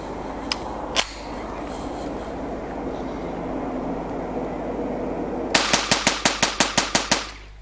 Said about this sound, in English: So I'll show you just 10 rounds rapid fire of the golden bullet